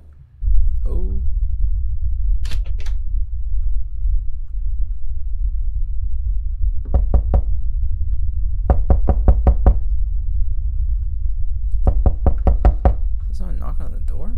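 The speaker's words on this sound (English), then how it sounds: "Is someone knocking on the door?" Someone knocks on a door in a horror game set in a creepy hotel: a single knock, then several clusters of three to five sharp raps spaced apart, loud and close over a low steady rumble.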